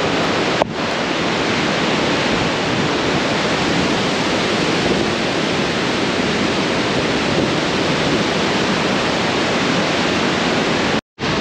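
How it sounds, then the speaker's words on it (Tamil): Victoria Falls in Zimbabwe, near Cataract Island, pouring as a dense, loud, continuous roar of falling water, steady throughout and cutting off briefly just before the end. "இதுக்கு அந்த பக்கத்தில் மறுபடியும் வாட்டர் ஃபால்ஸ் இருக்குது கொஞ்சம்"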